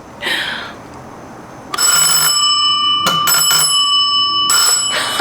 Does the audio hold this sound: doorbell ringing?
yes